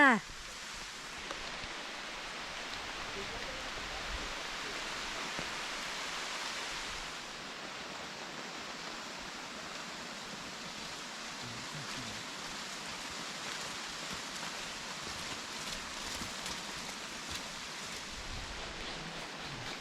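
Steady rain pouring through a forest on the way to a fruit orchard, a dense even hiss that stays constant throughout, slightly heavier in the first several seconds, with faint voices underneath.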